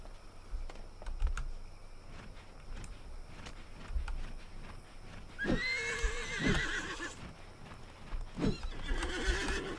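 The Thundering Stallion in the Disney Infinity Lone Ranger game neighs in a loud whinny, with galloping clip-clop hooves and keyboard typing tapping through the scene.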